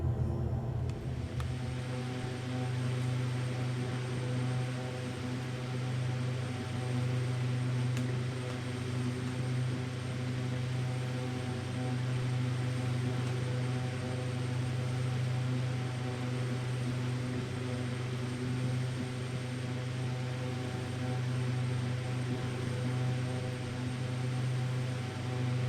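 A Pilatus PC-12 turboprop engine in Microsoft Flight Simulator drones steadily, a constant whining hum with strong low tones, even and unbroken from start to finish.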